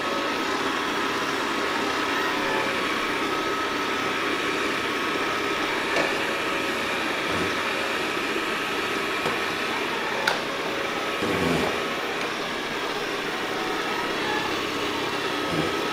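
A Dreame L40 Ultra robot vacuum mop runs with a steady, fairly loud whirring motor hum and a high-pitched whine. A few faint knocks and bumps break the drone.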